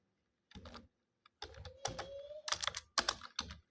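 Bursts of typing on a computer keyboard while entering text into a page-layout program, quick clattering key strokes in several clusters separated by short pauses, close and fairly quiet.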